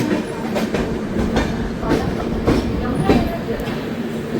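The Indore Express (train 19308) rolls along the rails, with a steady rumble and a regular clickety-clack of wheels over rail joints every half second or so, heard from close by inside the moving train.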